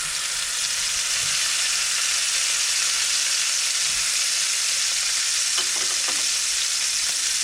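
Sous vide beef roast searing in a hot pan, a loud, dense, constant sizzle close by, with a few faint utensil taps near the end and no talking.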